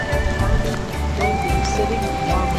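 Rain patters steadily on surfaces at an old Inca site in Peru, a continuous close hiss with a voice speaking over it.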